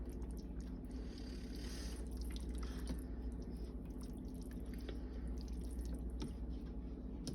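Water is poured into a pot of beans in a home kitchen, with a soft, continuous splashing and trickling and scattered drips throughout.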